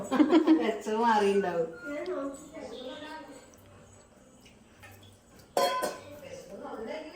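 Metal pots clink and clatter close by while people talk over them, with a sharper clang of cookware near the end.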